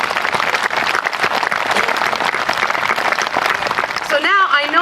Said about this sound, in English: So clap for those people.